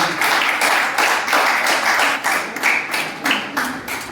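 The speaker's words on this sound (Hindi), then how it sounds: "तालियां बहुत बड़ी चाहिए।" An audience at a mushaira applauds in a steady burst, the claps dense and rhythmic, rising and dipping in waves at moderate distance with no voices over them.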